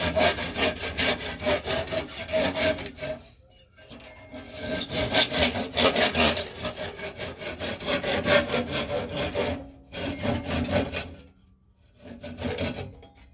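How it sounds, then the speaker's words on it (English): A canarywood vase being parted off a wood lathe gives a loud rasping, scraping cut that runs in long strokes, broken by short silent pauses near the middle and end. "if you don't catch it when you cut it off the lathe, sometimes you can break them"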